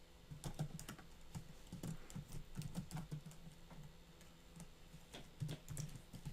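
C++ code typed on a computer keyboard, bursts of quick, light key clicks with short pauses between, close and quiet with no talking.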